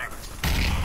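A flashbang grenade goes off in Counter-Strike with a sudden loud, heavy burst that cuts in partway through and keeps booming to the end, following a short stretch of quieter background noise.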